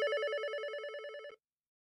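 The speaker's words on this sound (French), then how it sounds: "J'ai un appel sur mon téléphone fixe." Landline telephone ringing, one electronic trilling burst, warbling and loud and close, that stops abruptly after about a second and a half, followed by silence.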